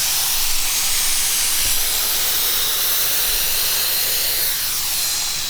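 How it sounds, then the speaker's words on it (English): Hydrographic film activator sprayed in a continuous broad hiss, steady and close for several seconds with only slight wavering, no voices. "let's grab our activator, spray it this time"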